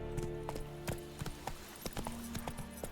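A horse gallops in The Witcher 3 video game, its hooves beating out a quick, uneven clip-clop over a steady game soundtrack, with crisp hoof strikes standing out clearly throughout.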